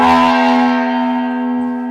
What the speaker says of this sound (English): hit the gong